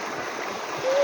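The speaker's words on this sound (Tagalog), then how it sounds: "Ito ang aming ilog." The Cabulisan river in Hinundayan, Southern Leyte, flows with a steady close rushing and gurgle, ending in a brief rise that may be a faint voice.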